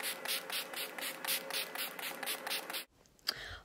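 Rapid bursts of makeup setting spray, about a dozen quick evenly spaced pumps close by, then a short pause and a faint rustle.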